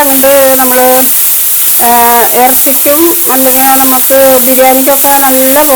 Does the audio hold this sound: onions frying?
yes